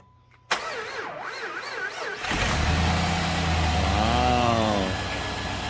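A 4.7 L V8 with a suspected vacuum leak after a head replacement starts up and settles into a loud, close idle, with a steady hiss over the engine drone.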